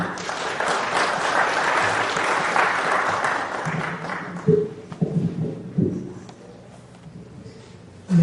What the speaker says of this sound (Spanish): Fuertes palmas para poder recibir al ingeniero